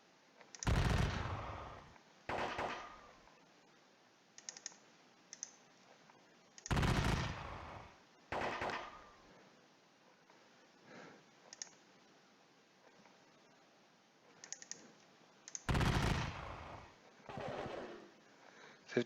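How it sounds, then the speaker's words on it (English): Musket volleys in the Seven Years War strategy game Muskets and Pike come as several loud, clipped crackling bursts separated by quieter gaps, with small clicks in between. "Wow, nice shooting there."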